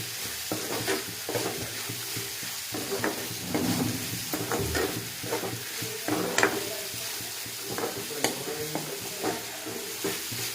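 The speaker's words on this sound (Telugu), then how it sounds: "కరివేపాకు, దీన్ని బాగా ఫ్రై చేసుకోవాలి." Curry leaves and green chillies fry in a hot pan for a chicken curry, sizzling steadily while a spoon stirs and scrapes at irregular intervals, close and fairly loud.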